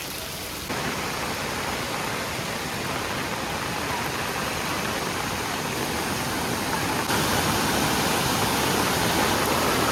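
Muddy rainwater rushes down a waterfall stream near Kondeshwar Temple, Badlapur, during heavy rain, producing a constant broadband roar that swells slightly louder partway through, with no speech.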